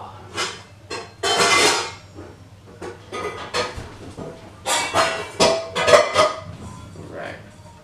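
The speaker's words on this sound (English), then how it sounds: "So now we're just going to put the lid on." A metal lid is set onto a pot of cooking quinoa, with repeated clanks and scrapes of metal against metal, close and fairly loud, over a low kitchen hum.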